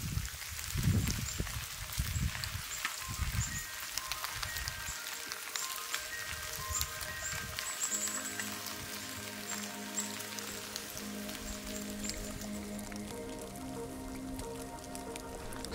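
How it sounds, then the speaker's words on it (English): Steady rain patters on surfaces at a riverside camp with a tipi hot tent during fall steelhead fishing, a continuous close hiss of drops with scattered louder taps and some low rumbling underneath. "It's gonna rain all day today."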